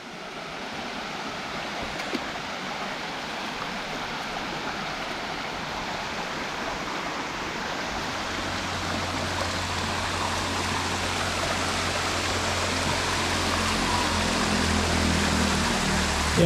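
Steady broadband rush of flowing water along the Bluefields River in Westmoreland, Jamaica, continuous and fairly loud, with a low hum joining partway through and no talk.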